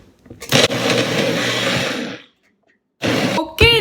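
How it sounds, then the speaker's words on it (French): A kitchen blender whirs loudly while mixing homemade popsicle ingredients, a steady close motor drone for about two seconds, then silence, then a second short burst ending in a clunk. "Et on remélange un petit 30 secondes pour mélanger tous les ingrédients."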